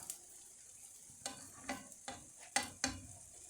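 Quiet frying hiss in a pan with several soft scrapes and taps as food is moved or flipped, each a short burst above steady sizzle.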